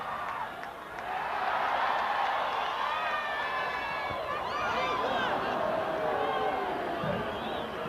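A large Brazilian football crowd at a 1996 Gold Cup match against Canada reacts to a miss-hit shot, a broad swelling roar of whistles and jeers lasting several seconds while a commentator talks over it.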